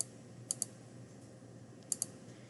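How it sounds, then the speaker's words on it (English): A Chromebook computer mouse gives quiet clicks in two quick pairs, separated by a pause, over a faint room hiss. "And I click every so often."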